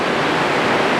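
Steady broadband roar of water pouring over the Polly McQuinn weir waterfall, a continuous loud rush with no breaks and no voices.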